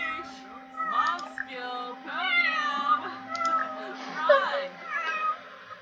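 A domestic cat meows repeatedly and fairly close, several drawn-out cries spread across the span with short pauses between them, over a steady low electrical hum.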